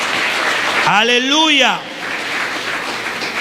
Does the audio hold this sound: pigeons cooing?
no